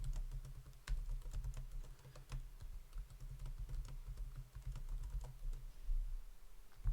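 Someone types a password on a computer keyboard while setting up a DTOS Linux install, the keys clattering in a steady, close run over a low background hum.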